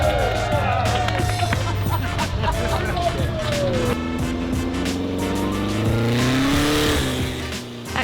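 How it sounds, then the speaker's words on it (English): Air-cooled classic Volkswagens are floored across a beach, engines roaring loudly and continuously with rising and falling revs, tire squeal in places, and voices mixed in. "It was mainly about getting the chance to floor your VW across the beach"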